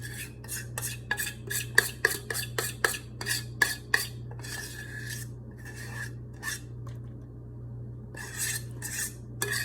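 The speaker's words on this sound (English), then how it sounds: "So now I'm gonna scrape it out. And put it in this pan." Gluten-free garlic bread dough is scraped out of a bowl into a pan in a rapid series of rasping scrapes, then slower, separated strokes. The scraping is close, over a steady low hum, with no talking.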